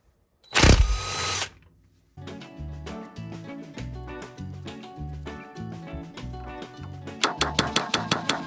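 Removing the front axle nut on a Ford F150 4x4 with a 7/8 socket, starting with a loud buzzing burst from a power tool, then a rapid rhythmic rattling of an impact wrench, ending in sharper, quicker hammering blows.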